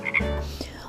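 A frog gives a quick croak or two, close and moderately loud, in a single short burst with no other sounds around it.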